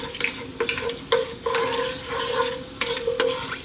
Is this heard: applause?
no